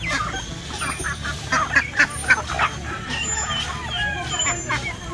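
Ducks quacking in short nasal bursts around an outdoor yard with chickens, with a person talking over them and steady background noise.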